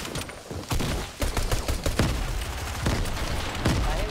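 Rapid bursts of shotgun gunfire in the video game Fortnite, several loud sharp blasts cracking in quick irregular succession over a busy game soundscape with no voices.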